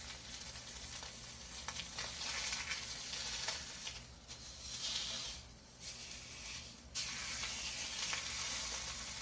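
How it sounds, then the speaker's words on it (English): Filet mignon sears in a hot pan with a steady, close sizzle and crackle that swells and dips slightly, sustained throughout without talk. "You can see how quick it sears"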